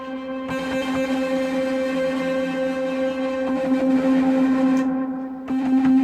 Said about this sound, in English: And if we put the distortion on,